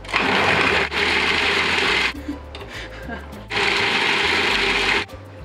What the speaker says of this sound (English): You stick them in your food processor and then you proceed to annoy everyone in your house because of the loud noise that results.